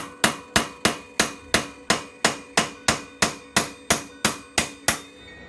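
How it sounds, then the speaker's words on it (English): A blunt punch hammered against a bicycle hub ring to loosen it, about nineteen sharp metallic strikes in a steady, even rhythm, loud and close with no talking. "if you use a blunt punch, it loosens pretty easy"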